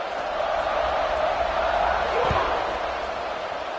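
Dense roar of a large football stadium crowd, loud and continuous, with a single thump partway through.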